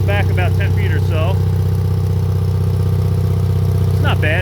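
Onan generator engine fitted with a motorcycle muffler runs steadily at a close, even, mellow drone throughout, while someone talks over it at the start and end.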